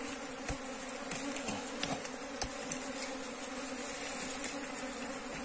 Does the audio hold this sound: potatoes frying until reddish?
no